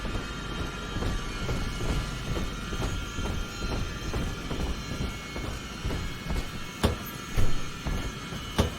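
A train in the Bioshock 2 video game rolls steadily with rhythmic clickety-clack wheel beats over a rumbling hum, a few sharper clanks near the end, and no talk.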